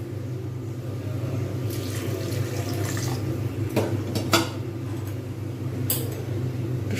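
Water is poured into a cooking pot on a stove while a vegetarian paneer curry is being made. Soft splashing and trickling are heard along with a few light clinks of utensils over a steady background hum, and no one speaks.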